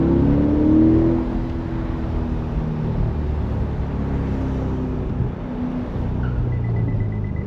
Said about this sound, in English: there is something quiet about this performance exhaust